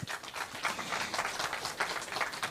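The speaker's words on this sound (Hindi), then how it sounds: "एक बार आप सब अपने लिए ज़ोरदार तालियां बजाएं" A crowd at a spiritual talk event claps for itself, a rippling applause with uneven bursts and pulses of hands rather than a smooth roar, fairly close and without speech.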